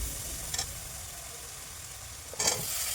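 Pumpkin pieces frying in a pan of hot oil with panch phoron, a steady faint sizzle with a couple of brief louder crackles and stirring scrapes, no talking.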